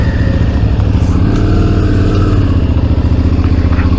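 A Suzuki V-Strom 650 motorcycle engine running loud and close, with a steady throbbing rumble and pulsing exhaust beats at an even pace throughout.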